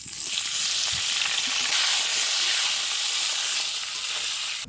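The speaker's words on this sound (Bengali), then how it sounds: "কেটে রাখা আলুগুলিকে দিয়ে খুব ভালোভাবে ভেজে নেব" Potatoes frying in hot mustard oil with turmeric and salt, on a clay stove: a loud, close, continuous hissing sizzle that holds steady throughout without speech.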